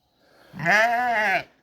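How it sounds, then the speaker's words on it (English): A pet sheep on a farm lets out one clear, close bleat lasting about a second, wavering and nasal, with no talking. "That's my son's favorite sheep right there, Peppa."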